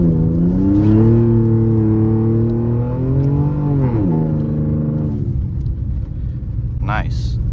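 Twin turbo Ford Taurus SHO engine revving as the car slides through snow, a steady loud engine drone rising and falling in pitch, with brief higher sweeps near the end.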